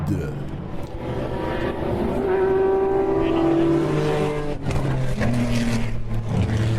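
Race cars at the Le Mans 24 Hours in 2010 roar by at a distance, engine notes swelling and dropping in pitch as they pass, over a constant rumbling background.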